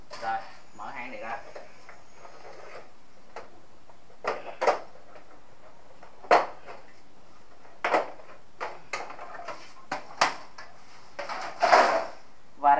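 Plastic clicks, snaps and scrapes ring out intermittently as an air conditioner unit's cover is opened and its filter mesh pulled out, close and fairly loud against a quiet room, with someone talking at times.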